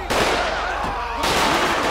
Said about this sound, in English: Yep, we got a shootout going on.